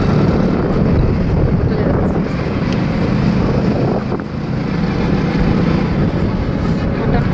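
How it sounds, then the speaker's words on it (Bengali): Cold wind rushes loudly and steadily across the microphone outdoors at night while heading out to eat, a continuous buffeting roar with only a brief dip partway through. "হাওয়া লাগছে তো, ঠান্ডা"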